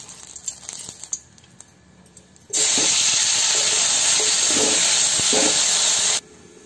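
Tomatoes hit a hot wok (kadai) for a Sambalpuri bhindi khatta dish, setting off a sudden loud, steady hiss and sizzle that holds for several seconds and then stops abruptly, after quieter kitchen clatter.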